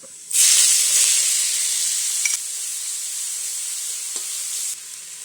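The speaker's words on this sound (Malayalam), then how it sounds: "അതേക്ക് വെളുത്തുള്ളി ചതച്ചതും ഇഞ്ചി ചതച്ചതും കൂടെ ചേർത്ത് കൊടുക്കാം" Crushed garlic and ginger hit hot oil in a pan for a beef curry, bursting into a loud, close sizzle that settles into a steady hiss, broken by a couple of light stirring clicks.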